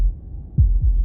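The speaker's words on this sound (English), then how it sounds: "That was the sound of a heartbeat" Slay The Princess plays a heartbeat sound effect, two deep, close, low thumps in quick succession over a soft hum.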